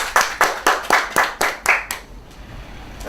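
A short burst of clapping at an Apex Education graduation for a 2018 CSEC candidate: about seven sharp, evenly spaced claps close by, then fading out into quiet room noise.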